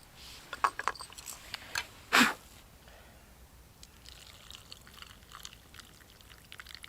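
Tea pours from a container into a cup outdoors by a lake in cold weather, giving one brief splashy gush after a few small clinks and taps, then quiet ambient background.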